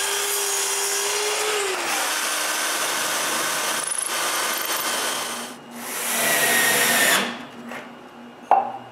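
Power tools cutting and screwing a plywood scrap into place on a wooden bandsaw build: a sustained whining tool run with pitch shifts, brief pauses, a second loud burst, then a sharp clunk at the end.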